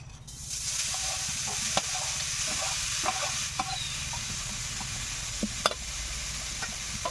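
Grated coconut for puli pitha fries in a pan, a continuous close sizzle broken by several sharp scrapes and taps of a spatula stirring against the metal, with no voices.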